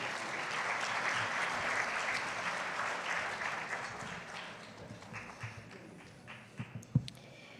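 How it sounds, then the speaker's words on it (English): Warm applause from a gala awards dinner audience fills the room, a dense sustained clapping that gradually thins and fades, ending in a few scattered claps and knocks. "Please welcome him with a warm applause."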